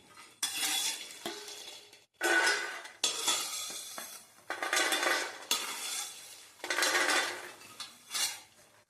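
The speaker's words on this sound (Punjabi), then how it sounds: "ਘਿਓ ਗਰਮ ਹੋਣ ਤੋਂ ਬਾਅਦ ਆਪਾਂ ਮਖਾਣੇ ਭੁੰਨਾਂਗੇ ਜੀ" Fox nuts (makhana) roasting in ghee in a kadhai while making atte wali panjiri, stirred in repeated loud close bursts of scraping and rattling against the pan with faint sizzling between strokes.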